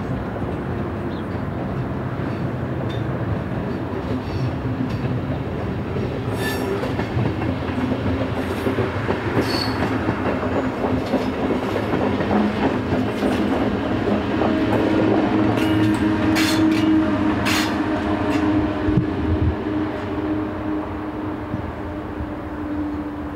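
A Swiss S-Bahn class 450 electric train on an S5 service near Pfaffikon approaches and passes, a steady rumbling roar with rail clatter and rhythmic clicks building to a peak and easing slightly at the end.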